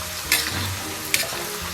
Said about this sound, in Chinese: 油温6成热啊，咱们把葱姜蒜给它下进去